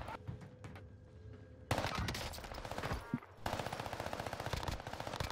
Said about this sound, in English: That's a SMG that's doing that, guys.